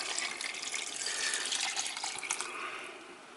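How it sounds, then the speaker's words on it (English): Hot beer is poured into a pan of Belgian beef stew and hisses as it hits. A close, steady splashing pour and sizzle fill a few seconds, then ease off at the end. "Now I'm gonna add the beer."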